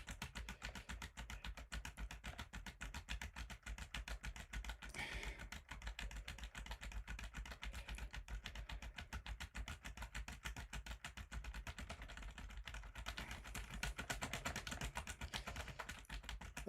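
Fast, relentless tapping on a computer keyboard while playing a ZX Spectrum BASIC track-and-field game, a quiet, even stream of clicks continuing throughout with no voices.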